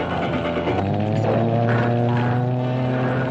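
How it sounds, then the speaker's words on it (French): An airplane sound effect from the 1971 film Octaman: a continuous propeller engine drone with a steady humming tone, loud and unbroken throughout. "Il fait bien le bruit de l'avion."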